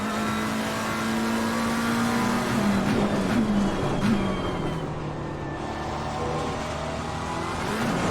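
A race car engine in Assetto Corsa Competizione drones steadily and loudly throughout, with its pitch rising and falling through gear changes and no voices.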